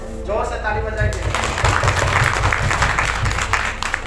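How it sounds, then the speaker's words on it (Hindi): A crowd at a church sermon breaks into loud, sustained applause right after a voice speaks briefly, the clapping steady and dense until the end. "जोर से ताली बजाएंगे"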